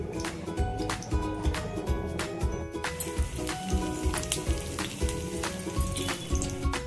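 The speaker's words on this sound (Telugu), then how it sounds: "సో ఇలా డిప్ చేసి ఇలా ఆయిల్లో మెల్లిగా వదిలేయాలి." Batter-dipped green chillies for mirchi bajji fry in hot oil, a loud, bubbling sizzle punctuated by repeated crackling bursts and spatters as the pieces are lowered in.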